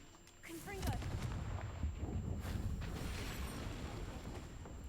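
A Confringo blasting spell in the video game Hogwarts Legacy, a punchy explosive burst that spreads into a sustained rumbling, crackling roar, with a short voice at its onset.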